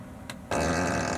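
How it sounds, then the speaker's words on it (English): A Tesla Model 3's novelty fart-on-demand sound effect played through the car's speakers, a brief click followed by a single loud, sustained, buzzy flatulent blast filling the cabin. "that will do your fart on demand"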